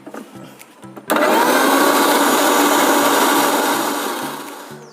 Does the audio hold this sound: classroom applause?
no